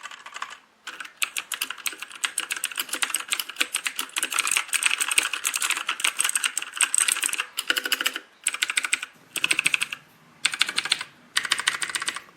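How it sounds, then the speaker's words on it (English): Someone types on a real mechanical keyboard, making loud, crisp, rapid clicking in steady runs broken by brief pauses, close to the microphone and with no talking. "I will also put some audio of a real mechanical keyboard."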